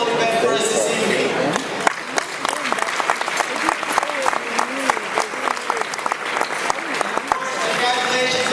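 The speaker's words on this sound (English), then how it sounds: "Please join me in again a huge round of applause for the planning committee" Graduation ceremony crowd applauding the planning committee, dense sustained clapping with some voices and cheers mixed in, loud and close throughout.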